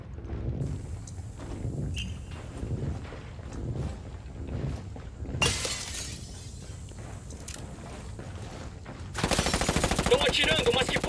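Gunfire crackles through a Ghost Recon match, scattered sharp shots early on giving way to a sustained, dense burst of rapid automatic fire near the end, with voices heard in the mix.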